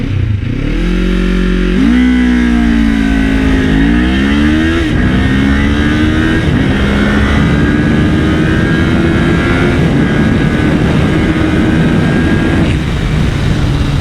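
A 2025 Kawasaki Ninja 500 SE with a long-stroke engine accelerating from 0 to 60, loud and close with rising engine pitch, a few quick gear shifts, then steady high revs under wind roar.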